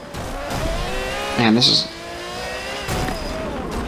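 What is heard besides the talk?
Ferrari F50 engine revving in Forza Motorsport 7 video game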